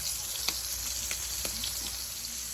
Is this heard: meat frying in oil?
yes